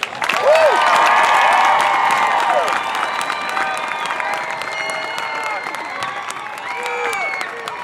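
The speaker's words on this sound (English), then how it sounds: "How about a round of applause for our graduates?" A crowd at a high school graduation ceremony applauds the graduates with loud sustained clapping, cheers and whoops, a few shouting voices rising above the steady roar.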